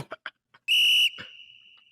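A referee's whistle at a football game, one loud shrill blast about half a second long that fades into a lingering tone, with brief crowd or voice noise just before and after.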